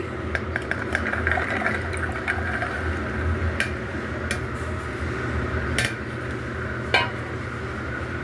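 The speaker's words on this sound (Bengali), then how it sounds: "কুকারে আমি কাবুলি ছোলাটা দিয়ে দিচ্ছি" Soaked kabuli chickpeas tip into a pressure cooker with wet pattering and scattered metallic clinks of utensil against pot over a low background hum.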